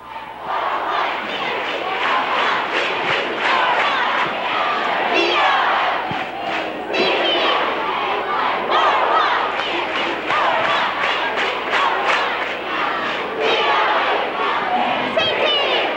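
A packed gym crowd at a 1990 high school substate basketball game chants and cheers in a steady rhythmic roar led by a cheerleader, loud and continuous for the whole stretch, with shouting voices blended into the noise.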